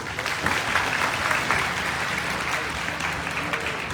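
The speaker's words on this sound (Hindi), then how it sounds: "ताली बजाइए।" Sustained applause from a crowd, a steady wash of clapping hands that holds at an even level throughout.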